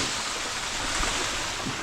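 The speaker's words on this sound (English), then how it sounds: "Why is there so much water running through this tube is what that beaver's saying." Water rushing through a tube at a beaver trap set in Iowa: a steady, even hiss of flowing water, close and fairly faint, with no talking.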